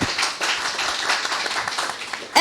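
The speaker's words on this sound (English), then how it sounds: "Please greet him with applause." Audience clapping at an Ideas Festival panel on reforms in Ukraine as a speaker is introduced, a brief, fairly loud burst of applause lasting a couple of seconds.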